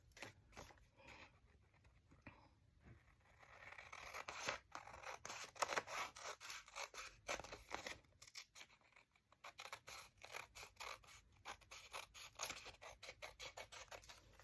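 Scissors snip through paper scraps, quiet at first, then a long run of rapid close crisp cuts with brief pauses, no talking.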